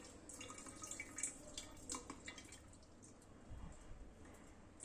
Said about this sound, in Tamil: இப்போ மூடியில் உள் பக்கம் ஊற்றுறேன்.